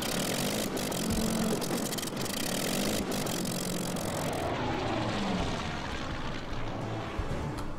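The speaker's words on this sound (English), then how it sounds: "Now we have the 2 Stukas incoming" Stuka dive bombers in the video game Order of Battle roar past with loud, continuous propeller engine drone that fills the whole stretch, steady and close with no talking.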